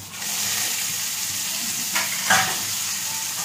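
Bay leaf, cumin, panch phoron, dried red chillies, onion and green chilli sizzle in hot oil in a home kitchen, making a steady loud hiss with a couple of brief stirring scrapes.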